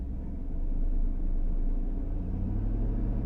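A Chevrolet Silverado truck with a power loss and bogging fault has its engine throttled up, giving a deep, continuous low rumble that swells slightly and then holds steady, close by.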